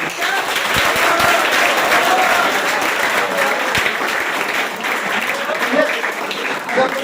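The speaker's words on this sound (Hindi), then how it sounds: "ताली बजाओ" Audience applause for a physics teacher at a NEET/JEE coaching institute's live quiz contest in Muzaffarpur, a steady, fairly loud burst of clapping with some crowd voices mixed in.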